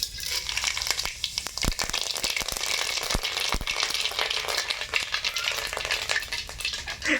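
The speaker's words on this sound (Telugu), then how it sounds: "నూనె కాగింది పోపు దినిసి లేస్తున్నా" Steady crackling sizzle of tempering spices frying in hot oil for potato fry, close and continuous, with a few sharp clicks of utensils against the pan.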